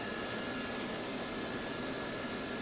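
A Gazelle helicopter's engine in a flight simulator game over Normandy makes a steady, continuous turbine whine and roar, with no variation in level across the short span and no talk over it.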